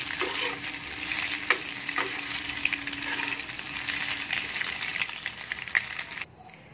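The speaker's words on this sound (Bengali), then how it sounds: "এটাকে আমি 1 মিনিট ভেজে নেব পেঁয়াজটার সাথে।" Bread pieces frying with onion in a pan for crispy egg toast, a steady close sizzling hiss with occasional stirring clinks, cutting off abruptly near the end.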